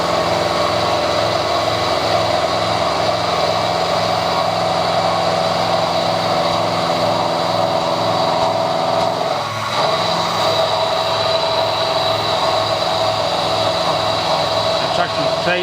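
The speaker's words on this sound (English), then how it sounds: "that's conventional milling where it's going into the direction of the cutter" A milling cutter in a lathe machining a tool post nut: a steady, loud mechanical whine with a constant motor hum and a briefly shifting cutting tone partway through, running throughout.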